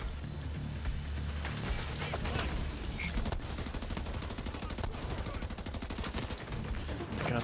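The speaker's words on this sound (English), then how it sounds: "God, those turrets are so tough." A tough turret in the video game The Division 2 fires loud, rapid automatic bursts, with the shots growing into a fast, evenly spaced rattle through the second half against a busy combat background.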